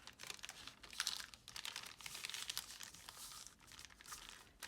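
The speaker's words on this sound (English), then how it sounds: "A lot of crinkling here." Lunch bag material crinkles and rustles in quiet, irregular bursts close by, filling several seconds with soft crackling and no speech.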